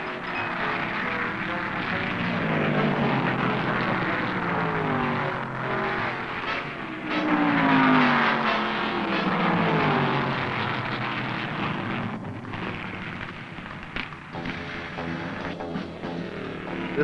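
Late-1960s NASCAR Grand National stock cars race on a rough one-mile track, with a loud, sustained engine roar that swells and fades slightly as the pack passes, steady for the whole stretch with no talk.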